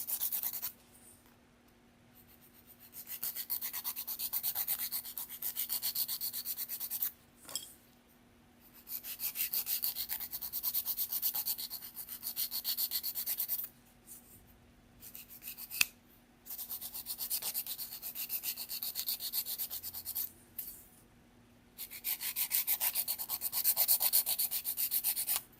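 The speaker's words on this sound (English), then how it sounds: "And then I always come along around the edges and give a final quick" Fingernail edges being filed with a nail file make close, gritty rasping strokes in several long bursts separated by brief pauses, no voices.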